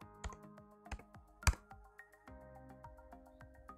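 Keys clatter on a computer keyboard while a value is entered into SwiftUI code: sparse individual clicks with one louder keystroke near the middle, then lighter scattered taps, close and alone with no voice.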